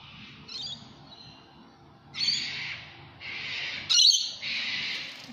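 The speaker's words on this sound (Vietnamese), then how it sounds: "chim hót như một giai điệu bản nhạc luôn" Birds sing in Sydney, with several bright bursts of chirping and warbling song, fairly loud and close, separated by short pauses over a quiet background.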